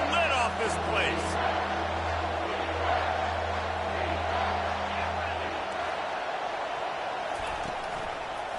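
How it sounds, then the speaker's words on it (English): Loud crowd roaring and cheering in a football stadium on a third down, a dense sustained wash of many voices with a steady low hum beneath. It fades somewhat toward the end. "this crowd is tearing the lid off this place"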